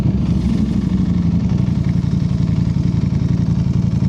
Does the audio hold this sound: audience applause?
no